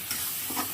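Whole spices and white mustard seeds fry in a pan over a lowered flame, giving a steady close broadband sizzle with faint stirring scrapes, no voices.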